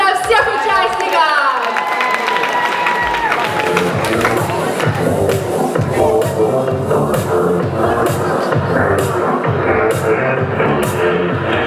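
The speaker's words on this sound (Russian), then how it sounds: "Поэтому аплодисменты!" A large audience at a male dance contest bursts into sustained applause and cheering, a dense continuous roar of clapping hands and voices with music playing underneath.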